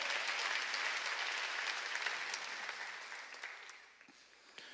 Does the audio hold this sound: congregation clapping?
yes